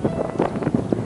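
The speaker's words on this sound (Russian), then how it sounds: "Ветер очень сильный" Strong wind buffeting an outdoor microphone in uneven, rumbling gusts that pulse every fraction of a second, loud and close with no voices.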